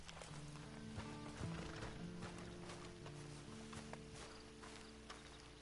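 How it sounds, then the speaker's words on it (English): Horse hooves clip-clop at a steady walking pace in the video game Red Dead Online, set against a constant droning background with occasional louder thuds. "Then you better get on this horse."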